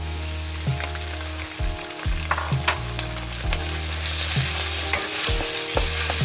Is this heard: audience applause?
no